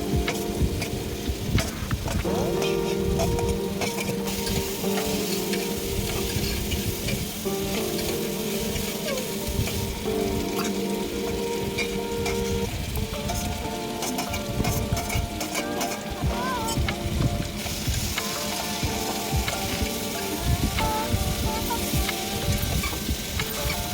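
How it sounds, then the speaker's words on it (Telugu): Cut vegetables are added one after another to a hot pan and stirred, producing a long, dense sizzle with frequent scraping and clattering of the spoon against the pan, close and busy. "ఇవి కలిపిన తర్వాత మనం కట్ చేసి పెట్టుకున్న వెజిటేబుల్స్ని ఒకదాని తర్వాత ఒకటి వేసుకొని"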